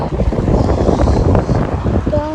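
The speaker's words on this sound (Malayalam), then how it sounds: "നല്ല കാറ്റുണ്ട് കുറേ അങ്ങോട്ട് കുറേ ഫോഗുണ്ട് നല്ല കാറ്റാ" Strong wind in the mountains near Kalba, Sharjah, with fog, buffets the microphone in loud, rumbling gusts that roar continuously from start to end.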